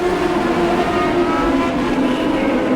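Sprint cars of the California Lightning Sprints racing on the Bakersfield track, a dense, continuous high-pitched engine roar from several cars at once, loud and sustained with no pauses.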